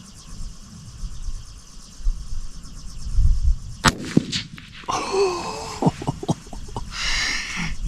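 A single sharp crack from a Bergara 17HMR rifle rings out once, near and abrupt, followed by scattered rustling and handling noises in a quiet outdoor setting.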